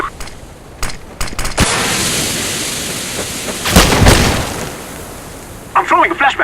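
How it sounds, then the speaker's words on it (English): Flashbang grenade goes off in a shooter video game, a loud burst followed by a sustained ringing hiss, set between sharp clicks and short game sound effects near the end, with voices around it. "I'm throwing a flashbang."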